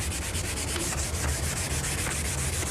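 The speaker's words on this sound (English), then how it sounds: "you're going to sand this panel" A varnished wooden door panel is sanded by hand in a continuous, even scratchy rubbing that rises and falls in a steady back-and-forth rhythm, close and alone.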